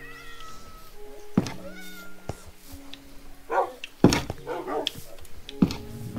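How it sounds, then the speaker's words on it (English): Dogs barking and cats meowing in the Minecraft video game, a scattering of short animal calls over a few seconds, some sharp and loud, others quieter, among soft game tones. "Ooh, lots of dogs."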